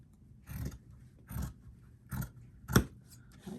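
Scissors cutting a simple gnome hat shape from craft material, four or five distinct crisp snips spaced roughly evenly, close and quiet with no talk.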